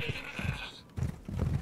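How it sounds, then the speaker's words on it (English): Goats bleat in Resident Evil Village: a drawn-out, wavering bleat comes first, followed by a couple of shorter, lower calls, fairly close and moderately loud, with no talking. "How you doing, goats?"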